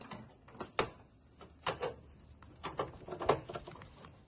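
A screwdriver works loose the heatsink screws inside an HP Compaq 6300/8300 office computer, making scattered small clicks, ticks and scrapes up close and quiet, with no talk.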